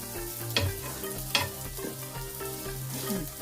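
Ragi roti frying in oil on a pan gives a soft continuous sizzle with a couple of sharper scrapes or taps as it is handled.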